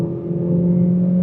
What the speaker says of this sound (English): yep, we do hear that 4-cylinder.